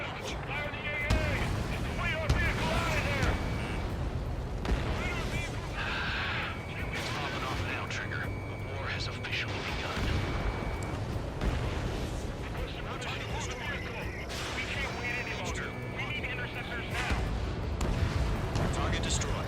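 Anti-aircraft fire and explosions from the video game Ace Combat 7, a dense continuous barrage of booms and gunfire with game music and radio voices layered over it throughout.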